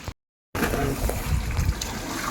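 Water poured into a cooking pot for village-style biryani, a steady broadband splashing and trickling that starts after a short silence and runs continuously, fairly loud and close.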